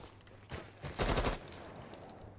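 Rapid bursts of video game gunfire, a dense volley of automatic shots in the middle after a lone earlier crack, loud and close with no talk over it.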